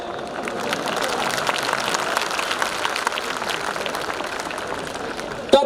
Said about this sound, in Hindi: एक ताली के लिए शुक्रिया।